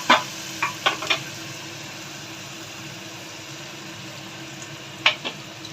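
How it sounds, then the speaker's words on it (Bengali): Ginger and chopped chilli fry in a pan over lowered flame, a soft steady sizzle punctuated by a few distinct spoon scrapes and clinks near the start and again near the end, with no speech. "এবার একটু নাড়ছি"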